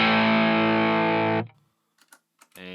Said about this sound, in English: so here's the Anxiety Overdrive.